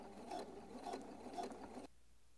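Sewing machine stitching twill tape onto a neckline seam, three quick bursts of rhythmic clatter at close range, then the machine stops and goes quiet.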